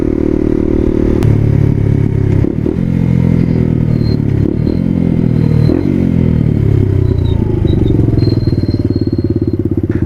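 A gas motorcycle engine roars loudly during a ride, a dense low rumble with shifting pitch as the throttle changes, plus rattling and wind noise close to the rider.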